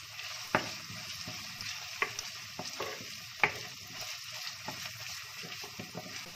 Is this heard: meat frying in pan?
yes